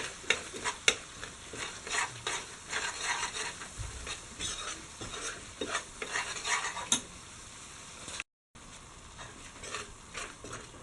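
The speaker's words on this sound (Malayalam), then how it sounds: "വിനാഗിരി ചേർത്ത് തിളച്ച് വന്നിട്ടുണ്ട്." A spoon is stirred through a bubbling Kerala fish pickle (meen achar) mixture with vinegar in a pan. Repeated soft scraping strokes sound against the metal over a faint simmer, with a brief dropout near the end.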